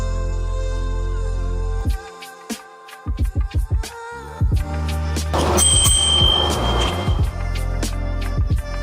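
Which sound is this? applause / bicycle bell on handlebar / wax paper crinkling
bicycle bell on handlebar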